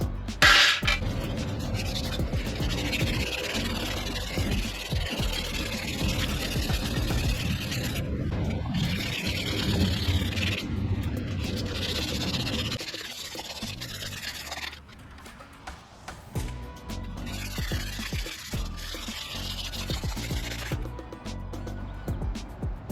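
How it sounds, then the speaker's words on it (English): Hand sanding of wood panels during a van build: a continuous rasping rub close to the mic, steady for long stretches with a brief lull around the middle, nothing else competing. "think I might hand sand these."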